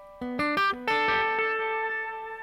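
An electric guitar through a delay pedal with reverb plays a few quick picked notes, then one held note that echoes in repeating trails and slowly decays into a reverberant wash.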